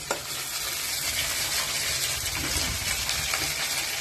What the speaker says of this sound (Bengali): পেঁয়াজগুলো একটু ভাজা হয়েছে